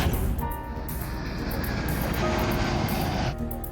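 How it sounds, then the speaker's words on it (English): An airliner climbing after takeoff, a steady loud engine roar with broadband rushing noise throughout and a faint tonal whine, no voices. "The plane began climbing normally."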